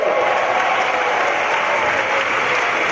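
A stadium crowd of about 55,000 applauds before a concert, a dense, loud, continuous wash of clapping and crowd roar that holds steady throughout.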